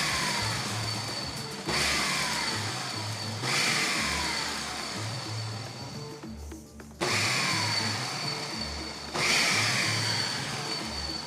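Oats being chopped in a blender, running in several loud pulses of whirring motor with brief pauses between them, no speech.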